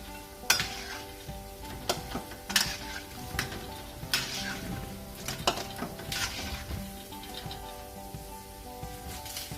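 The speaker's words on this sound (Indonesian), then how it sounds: "ini kita goreng-goreng lagi, kita balik-balikin lagi ya, biar matangnya rata" Pempek mackerel fish cakes fry in hot oil in a pan, a steady sizzle broken by repeated clinks and scrapes of a utensil turning them, with music underneath.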